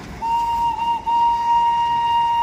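A British-era steam engine on the Darjeeling toy train gives a loud, sustained single-pitched whistle lasting about two seconds with one brief break near the start.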